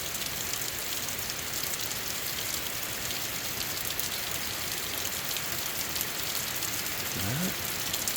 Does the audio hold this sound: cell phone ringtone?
no